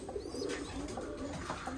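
Roller pigeons in a weaning box coo softly in low, rolling murmurs, close by against a steady background hiss.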